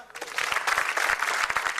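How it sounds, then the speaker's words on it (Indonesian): A comedy audience breaks into quick applause at a stand-up show, a short burst of bright claps that swells in and runs on with no voices over it. "tepuk tangan."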